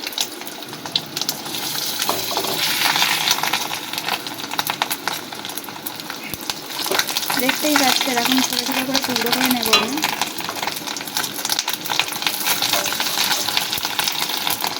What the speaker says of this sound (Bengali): ডিমগুলোকে টুকরো টুকরো করে ভেজে নিয়েছি